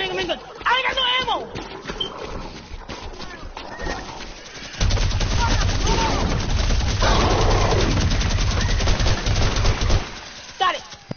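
A video game minigun opens up in a long, rapid buzzing burst lasting several seconds, loud and close, with excited voices talking before and around it.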